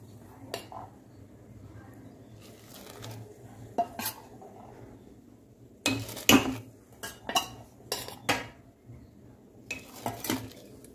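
Soaked sago tipped into boiling water in a pot and stirred with a spoon, with irregular metallic clanks and scrapes against the pan over a low bubbling background, loud bursts near the middle.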